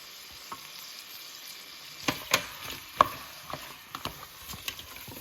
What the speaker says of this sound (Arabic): انا حطيت الدقيق حنحمصه معاها